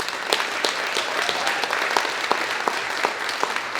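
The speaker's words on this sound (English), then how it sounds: "Give him a round of applause." A room full of people applauds at a retirement event, steady dense clapping with a few sharper individual claps standing out close by.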